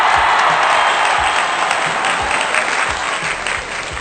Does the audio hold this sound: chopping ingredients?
no